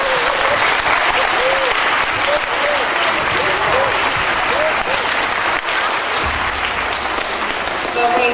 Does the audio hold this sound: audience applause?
yes